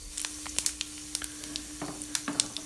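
Cumin seeds and fenugreek sizzling in hot oil in a pan: a faint, steady hiss broken by sharp crackles and pops at irregular moments, close by and alone.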